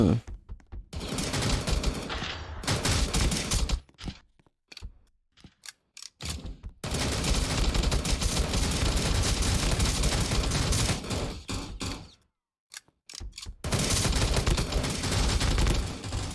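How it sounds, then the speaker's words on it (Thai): Soldiers shooting in the Roblox game The Resistance Tycoon: dense bursts of automatic gunfire, broken by short gaps and then resuming, with no talk over it. "เออนั่นแหละกว่าจะยิงกันได้"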